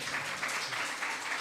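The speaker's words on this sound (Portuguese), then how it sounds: "Vamos aplaudir." Applause from an audience in a church, a steady dense wash of clapping that fills the whole moment without a break.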